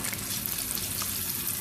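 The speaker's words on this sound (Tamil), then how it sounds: "கனவா பொரிக்கும்போது வெடித்து பறக்கும்" Steady, dense crackling and sizzling of squid frying in hot oil, close and continuous, with no voices.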